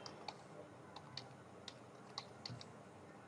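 Sparse, faint clicks of typing on a computer keyboard, with about a dozen irregular light keystrokes spread over a few seconds in a quiet room. No one speaks.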